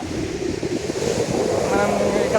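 Surf and wind at Varakkal beach in Kozhikode, Kerala: a steady, broad wash of waves with gusty wind noise across the microphone, continuous and fairly loud throughout.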